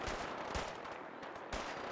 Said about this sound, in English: Someone is hitting me with a rad gun.